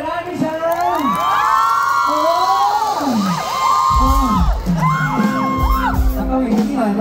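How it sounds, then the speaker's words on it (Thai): A crowd cheers, whoops and shouts at a band concert at a temple fair, Wat Lak Sam, with loud, continuous voices and singing-like calls over dense background noise. "ขอเสียงปรบมือหน่อยนะพี่ชา"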